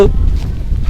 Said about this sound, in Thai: มานั่งบริเวณนี้ก็จะมีลมพัดนะ